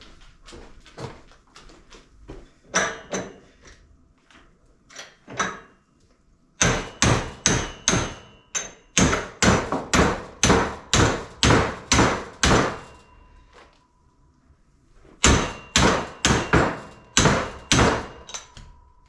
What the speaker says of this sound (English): give it a few taps with the hammer and it should come out